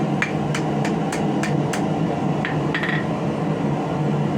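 A hammer strikes hot steel, bending the tapered end of a forged crowbar: six sharp ringing blows at a steady rhythm, a short pause, then a few lighter taps over a low background hum.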